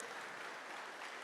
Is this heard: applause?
yes